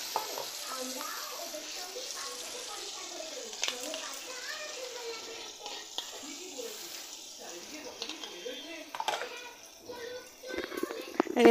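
Ground spice paste fries in leftover eggplant-frying oil, a soft continuous sizzle with stirring scrapes, while voices, including a child's, talk in the background.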